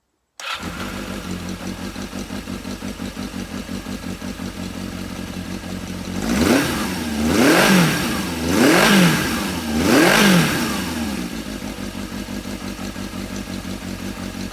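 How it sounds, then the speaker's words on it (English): A 1982 Yamaha XJ550 Seca motorcycle engine, with freshly installed carburetors, starts and idles with a steady, even beat, then revs three times in quick sharp blips before settling back to idle. "That is a nice tight sounding motor."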